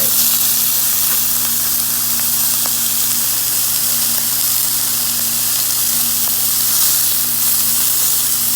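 Meat sizzling on a grill at a barbecue, a continuous even hiss with faint crackles and a low steady hum beneath, no talk.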